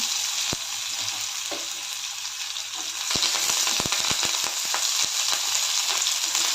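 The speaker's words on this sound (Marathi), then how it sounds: "सर्व चांगलं परतून घेऊया" Onion, tomato, curry leaves, ginger and garlic sizzle steadily in hot oil with popping mustard seeds, with a run of sharp clinks and scrapes from stirring in the pan, close and fairly loud throughout.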